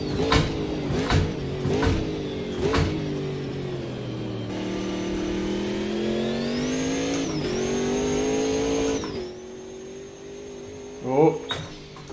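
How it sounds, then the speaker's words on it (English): A racing car in a video game pulls hard through the gears, its turbo engine whining and rising in pitch with sharp shift blips early on, a sustained high climb, then easing off with a brief tire scrub near the end. "Oh, that turbo sound though!"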